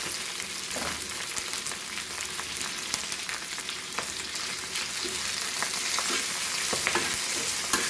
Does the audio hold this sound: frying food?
yes